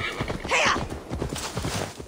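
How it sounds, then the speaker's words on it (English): A horse galloping in the video game Assassin's Creed Valhalla, rapid rhythmic hoofbeats with a whinny near the start, close and steady under game background sound. "I still gotta ride my horse for a couple hundred meters easily"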